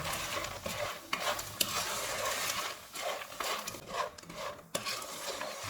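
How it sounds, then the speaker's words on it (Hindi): Struffoli with chopped almonds are stirred in a pan over medium-low heat, giving close scraping and clinking of a spoon against the pan with a soft sizzle underneath. "2 टेबलस्पून कटे हुए बादाम। इनको मिक्स करेंगे।"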